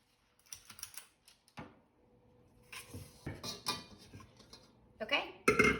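A metal cookie scoop clicks and scrapes as it portions gluten-free, dairy-free chocolate chip cookie dough onto a baking tray, giving a series of close, irregular taps and clatters that grow louder toward the end.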